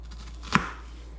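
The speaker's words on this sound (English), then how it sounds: "So if you're out here and you're chopping, you can chop your finger." A single sharp knife chop on a cutting board while preparing a meatloaf, one crisp close strike over a low steady hum.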